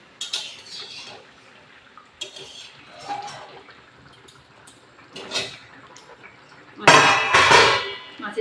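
A metal covering dish lifted off a pot of simmering hilsa fish curry with potato and aubergine, giving a loud clattering clang near the end after quieter scraping knocks and soft kitchen sounds.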